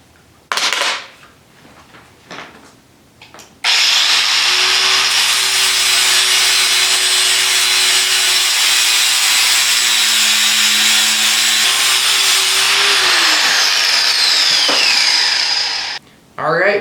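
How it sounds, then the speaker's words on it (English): An angle grinder works on metal before MIG flux-core welding, spinning up into a loud, steady high-pitched whine with a grinding hiss that holds for about twelve seconds, dips briefly, then resumes. "I'm going to go ahead and grind a little bit so I can lay down a couple beads"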